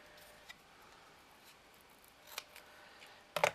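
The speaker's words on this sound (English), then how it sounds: "Just trim that off." Scissors trimming magazine paper for a miniature book: a couple of faint snips early on, then a sharper, louder cut near the end over quiet background; no speech.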